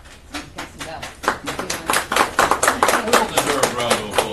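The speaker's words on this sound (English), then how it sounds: "Well-deserved round of applause." An audience at a business meeting gives a round of applause: many hands clapping in a dense, uneven patter that starts light and swells to a steady, fairly close burst lasting about four seconds.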